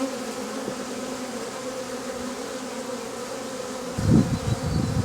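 Honeybees buzzing up close around a hive as queens are marked, a steady drone that swells louder near the end.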